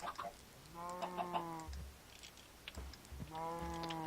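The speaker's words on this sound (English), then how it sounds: "we're getting plenty of wild chickens" Chickens in the Minecraft video game give two short bursts of tonal clucking, a couple of seconds apart. Soft clicks, like keyboard keys, sound between the bursts.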